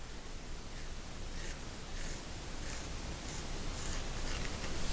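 Pencil or brush scratching across textured Arches cold press watercolor paper, a soft continuous rasp with faint repeated strokes, close and quiet throughout, no voices.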